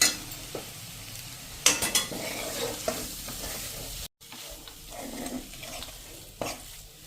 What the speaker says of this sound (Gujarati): આ રીતે આપણે જો આ ક્રમ્બલ ભૂકો છે, પેસ્ટ મસાલો ને બધું એકદમ સરસ સંતળાઈ જાય ને, 1-2 મિનિટ આ રીતે આપણે સ્લો ફ્લેમ ઉપર ચલાવતા રહેશું